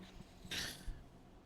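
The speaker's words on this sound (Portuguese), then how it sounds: "só um leve detalhe que a paçoca tava latindo" A dog gives one short, muffled bark indoors, faint and brief against a quiet background with no talking.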